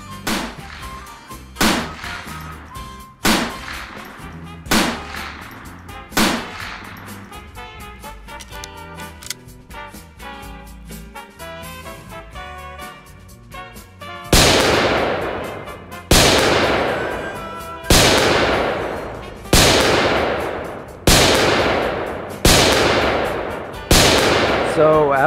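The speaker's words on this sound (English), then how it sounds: "after a few shots" Shots fired at a shooting range during gun training, sharp single reports spaced a second or two apart, the later ones louder and evenly paced with ringing decays, heard over background music.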